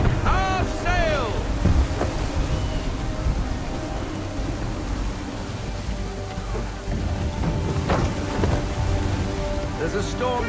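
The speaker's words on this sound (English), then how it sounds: "There's a storm coming, Captain." A storm at sea in Assassin's Creed III: wind and rain roar steadily around a sailing ship, with faint rumbles and creaks under a dense wash of weather noise, and voices are heard.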